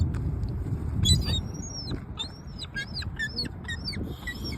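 Seagulls call in short, high squawks and cries, several overlapping birds nearby as they are fed, over a low outdoor background rumble.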